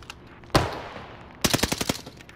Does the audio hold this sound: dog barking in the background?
no